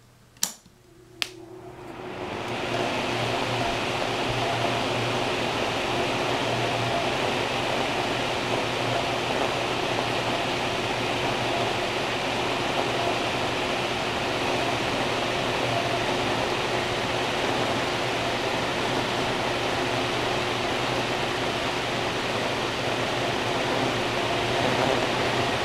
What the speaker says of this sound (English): So here comes the test run of the five blade fan with six stability holes.